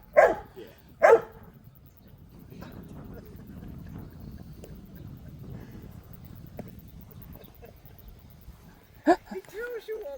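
A dog in Kōwhai Park gives two sharp, close barks at the start, then a quieter stretch of low shuffling and outdoor noise, before another pair of loud barks near the end.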